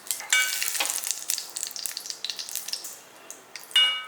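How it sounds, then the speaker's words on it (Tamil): Mustard seeds, curry leaves and a dried red chilli crackling in hot oil, a dense run of quick close pops and spits with a sharp burst near the end, no voices. "பாருங்கள் கடுகு நல்லா பொரிஞ்சிருச்சு"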